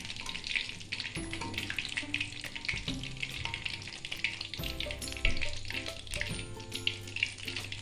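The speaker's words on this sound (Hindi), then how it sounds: "जो चिकन हमने अभी फ्राई करने के लिए डाला था वो हमारा बिल्कुल रेडी है" Crumb-coated chicken pieces for zinger burgers fry in hot oil with a steady, dense sizzle and crackle that runs throughout, close and fairly loud with no talking.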